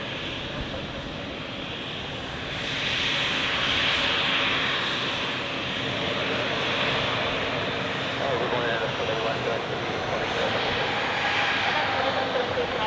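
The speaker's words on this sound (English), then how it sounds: "on runway 16, there is an A330 departing" Airbus A330 jet taking off from runway 16 at Zurich Airport, a broad steady engine roar that swells after a few seconds and holds loud and sustained, with faint talk underneath.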